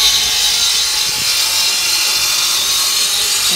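Rotary saw cutting wood, a steady, loud, bright grinding rasp that runs continuously without pause for a few seconds, close by and with no voices over it.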